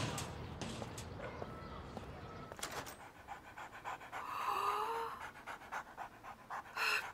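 A dog panting nearby in quick rhythmic breaths, with footsteps and other movement around it and brief talk in the background.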